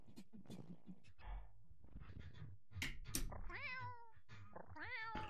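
A person's voice imitates cat meows during play of a video game, giving several rising and falling meow calls in quick succession, fairly close and clear, with bits of talk between them.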